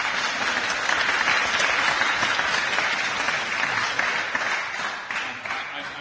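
Sustained applause from an audience at a general election hustings in St Neots, a dense steady wash of many hands clapping that thins slightly toward the end, with no voices standing out.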